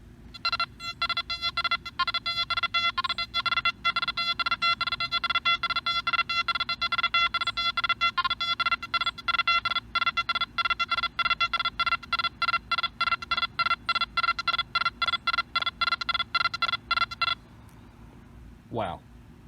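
Nokta Makro Anfibio metal detector target tones, a rapid series of repeated electronic beeps pulsing steadily for most of the time, then a brief low voice as the tones stop.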